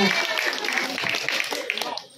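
An audience claps for a children's traditional arts performance, steady dense applause filling the whole moment while a voice talks over it.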